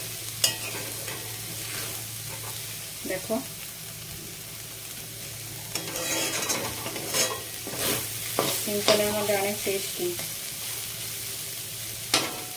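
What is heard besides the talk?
banana flower frying and being stirred in a pan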